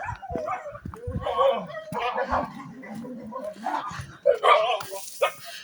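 Several dogs bark and yip excitedly at close range in a doorway greeting, with bursts of whimpering mixed in, while a person talks over them.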